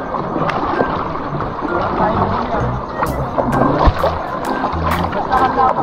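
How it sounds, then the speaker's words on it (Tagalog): A kayak paddles through open water with steady splashing and sloshing under wind, close and continuous, while people talk over it. "nagkakayak na kami ni Sed."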